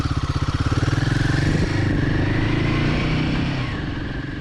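A Royal Enfield Himalayan 450 motorcycle rides past close up, a loud, pulsing single-cylinder thump that rises in pitch as it accelerates, then settles into a steady drone.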